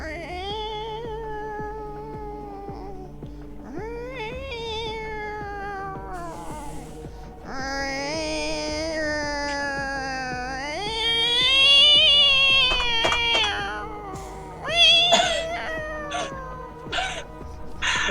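A man imitates a cat, giving a long run of drawn-out meows and wails that rise and fall in pitch and grow louder toward the end, up close with no other talk.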